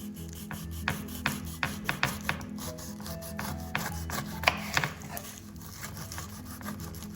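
A knife cuts and slices a small pineapple with the head already removed, giving a series of short, crisp rasping strokes in an irregular rhythm, close and fairly quiet.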